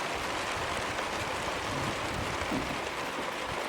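Rain falls steadily outside an off-grid cabin in a ravine, a soft, even hiss of drops with no breaks or voices, moderately faint and constant.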